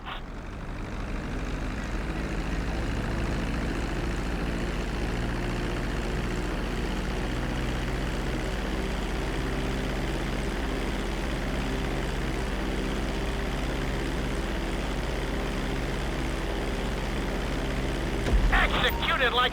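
An airplane's engines drone steadily while landing in the GTA V video game, a continuous loud hum throughout with a slight swell near the end, while someone talks over it.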